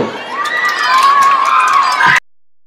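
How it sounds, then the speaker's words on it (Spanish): Audience at a school event bursts into loud, sustained applause and cheering with children shouting, steady and close for about two seconds before cutting off abruptly. "ahora sí, un fuerte aplauso, Tiago."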